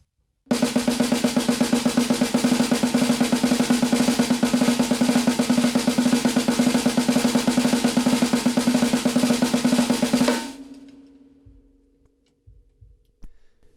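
Rapid, even drum strokes roll continuously for about ten seconds, crisp and close, then stop abruptly and leave a fading ring and a few stray taps.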